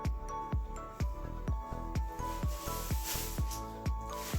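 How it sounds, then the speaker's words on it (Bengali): A knife slices through pointed gourd (potol) in a steady series of about nine crisp cutting thuds, evenly spaced roughly half a second apart, close and fairly quiet with no talk. "এরকম একটা ছুরির সাহায্যে এরকমভাবে পটলগুলোকে কেটে নিতে হবে।"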